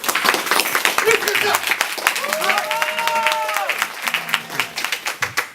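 Audience applause at a stage show, steady clapping from a crowd with voices and a brief tonal sound mixed in, thinning into separate claps toward the end.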